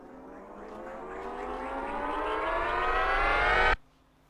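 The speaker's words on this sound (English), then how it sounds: "I added a thing called a riser that sounds like this" A synthetic riser swells upward in pitch and loudness over several seconds, then cuts off abruptly into near silence.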